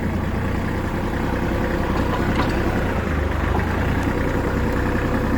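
A Kubota GL23 mini tractor with front loader runs its engine at a steady, loud, low drone, close by and unbroken throughout.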